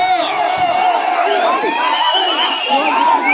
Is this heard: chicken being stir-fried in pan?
no